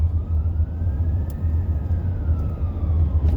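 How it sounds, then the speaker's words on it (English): A fire truck passes behind a car, heard as a steady low road and engine rumble inside the car with a faint siren tone rising and falling in the distance. "Got a fire truck behind me."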